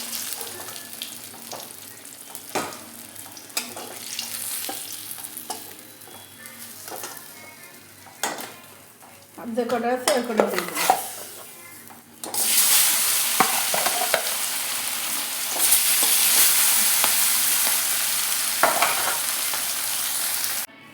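Roop Chand fish frying in hot oil, a steady sizzle with occasional stirring and utensil clatter that swells louder and denser in the second half, with a brief spoken remark over it.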